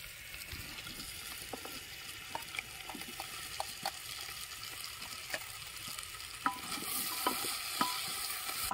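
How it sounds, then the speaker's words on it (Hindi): Soybean chunks, potatoes and vegetables fry and are stirred in a pan at a night campsite. A soft, steady sizzle runs under scattered scrapes and clacks from the stirring, all fairly faint. "सारी वेजिटेबल्स डाल दिए भाई बनने के लिए, और बढ़िया तरीके से अच्छे से फ्राई हो जाएंगे ना सोयाबीन बरी आलू ये चीज़"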